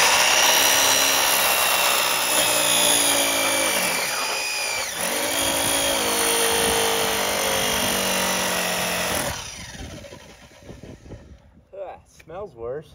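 A power saw fitted with a heat-resistant fiberglass blade cuts into wood, a loud close whine with rising and falling pitch and grinding, then it spins down into scattered clatter and a voice.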